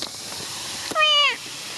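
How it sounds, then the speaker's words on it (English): A cat on Koh Phi Phi gives one short, clear meow. It rises and then falls against faint outdoor background noise, with no talking. "Those cats there look so fat"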